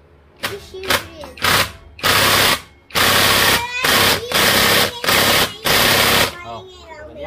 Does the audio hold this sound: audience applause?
no